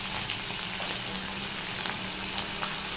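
Green chillies and a spoonful of ginger sizzle and crackle steadily in hot oil for a vegetarian Bengali dish, a dense, continuous frying hiss close by with no talk.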